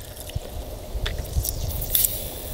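Water poured over a Planet Eclipse Etha 2 paintball gun in extreme cold, giving a wet, squishy splashing with small drips and scrapes, close and steady under a constant background hiss.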